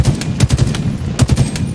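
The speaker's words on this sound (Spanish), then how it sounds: "Me están disparando." Rapid bursts of automatic gunfire in Halo Infinite multiplayer, loud and close, with sharp clustered shots in quick uneven succession.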